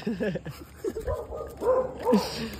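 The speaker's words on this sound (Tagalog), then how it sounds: "Ang mga aso." Dogs bark and yip in short, uneven bursts, some whimpering, heard fairly close amid background noise, with people talking in between.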